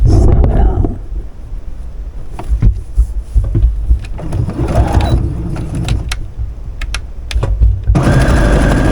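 A sewing machine stitches foundation paper pieces for a temperature quilt in a few short, buzzy runs, with quieter handling noises between bursts and a steadier run near the end.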